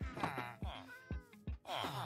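A Minecraft cat meows repeatedly: four or five short, high-pitched mews in quick succession, fairly clear and close, with no other sounds around them.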